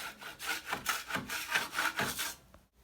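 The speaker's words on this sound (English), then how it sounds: "I'm going to slowly and carefully just scrape this area." A hand scraper rasps loose paint chips and drywall off a cracked wall, quick rhythmic scraping strokes close up and quiet, fading out at the end.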